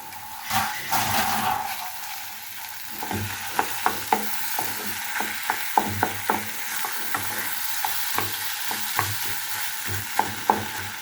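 Mashed papaya being mixed by hand with chopped onion and green chili, no oil added, giving soft squelching, wet pressing sounds in an uneven rhythm with small sharp taps, close and fairly quiet.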